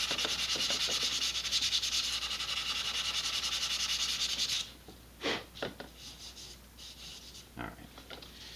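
Sandpaper scrubs steadily and close over a vintage Estes Sentinel model rocket body for about four and a half seconds, then stops, leaving a few scattered light scrapes and taps.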